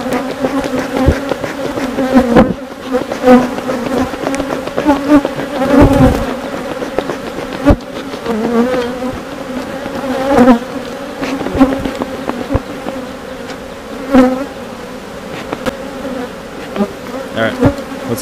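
Honeybees swarm thickly around an opened hive on a North Carolina farm during re-queening, making a loud, dense, continuous buzz with shifting pitch. Louder passes and brief knocks break through the drone at moments.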